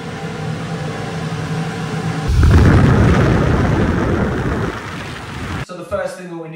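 Old church pipe organ sounding again after 25 years, a sustained chord that swells loudly and fills the room with dense tone before cutting off abruptly, followed by brief talk.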